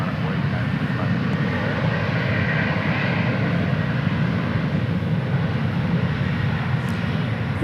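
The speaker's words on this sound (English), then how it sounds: "Here comes a flight from Sacramento" Airliner arriving at DFW Airport from Sacramento, a loud continuous engine rumble and rushing roar that stays even throughout, with faint voices mixed in.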